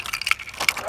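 Keys jangling and scraping at a garage door lock, a brief run of close metallic clinks and rattles, fairly quiet with no talk.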